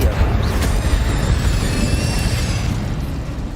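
In Hogwarts Legacy, the Incendio fire spell bursts with a loud whooshing roar and then a sustained crackling rumble that slowly fades.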